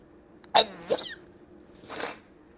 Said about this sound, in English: I have a sneeze coming on.